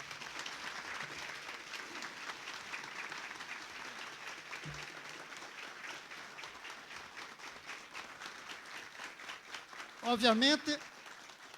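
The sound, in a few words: applause in legislative chamber session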